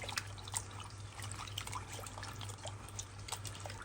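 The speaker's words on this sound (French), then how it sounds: "On va faire, rincer comme ça." Bitter melon being rinsed in salted water, with soft trickling, dripping and splashing sounds throughout, fairly quiet and close, alone without talk.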